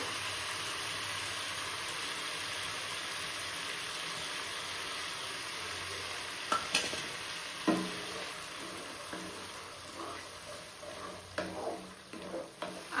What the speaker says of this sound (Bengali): আর দেখো মশলাটা কি সুন্দর কষে এসছে আর তেলও ছেড়ে দিয়েছে।